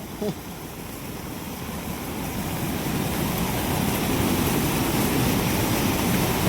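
The Girna river in heavy flood near Surgana roars as a dense, steady wash of rushing water that swells slightly louder and stays broad and continuous throughout.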